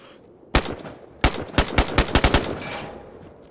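DayZ gunfire cracks out loud and close: a single shot, another, then a quick uneven string of about six shots with ringing echo trailing off afterward.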